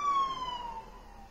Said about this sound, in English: I don't know if you guys hear the siren